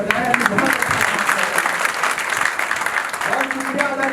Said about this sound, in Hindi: एक बार जोरदार ताली अली के लिए बजाया।